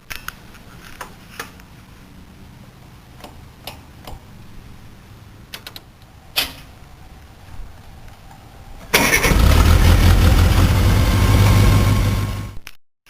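Several scattered clicks and knocks, then a 1979 Cub tractor's small engine cranks and roars to life loudly, running strong for a few seconds before cutting off abruptly.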